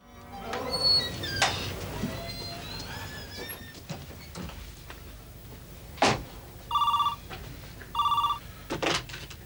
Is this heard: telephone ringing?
yes